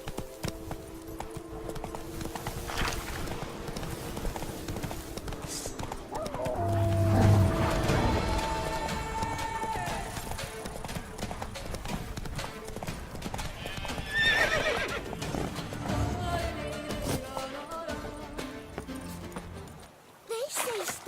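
In The Witcher 3: Blood and Wine, a horse gallops with a rhythmic clip-clop of hooves, whinnies loudly partway through and neighs again later, with game music and a voice mixed in.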